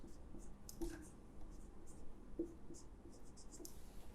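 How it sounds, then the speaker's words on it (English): Pen strokes of someone handwriting a quadratic polynomial for a factorisation problem, a soft continuous scratching with a few brief taps, faint and steady against quiet room noise. "So, I will write the polynomial first."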